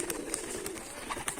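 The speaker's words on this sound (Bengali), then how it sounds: "দেখুন আমার পায়রা কত সুন্দর ধান খাচ্ছে।" Pigeons, Rajshahi Giribaz tumblers, coo softly while feeding on paddy grain, several low rounded calls repeating in a loose rhythm at close range, faint overall with no talk.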